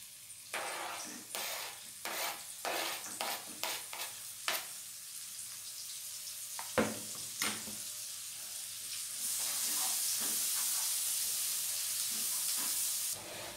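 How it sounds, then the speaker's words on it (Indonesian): Garlic and onion sautéing in a pan, with a bright sizzle, bursts of stirring and scraping in the first half, then a steadier, louder hiss of frying for the last few seconds. "Jadi ini yang aku tumis bawang-bawangannya dulu ya, bawang putih sama bawang bombay. Ini aku tumis sampai harum."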